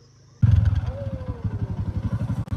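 A scooter approaches and passes close by on a hillside road in Chitwan, its small engine chugging in a rapid pulsing rhythm after a sudden loud onset, with a brief voice over it.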